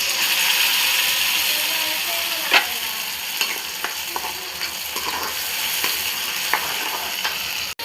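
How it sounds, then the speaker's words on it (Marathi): Tomato puree hitting browned onions in a hot pan for pav bhaji sets off a steady, bright sizzle, broken by scattered clinks and scraping taps of a stirring spoon against the metal vessel. "तर आपण याच्यामध्ये टोमॅटोची प्युरी ॲड करूया."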